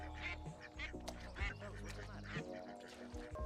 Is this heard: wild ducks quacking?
yes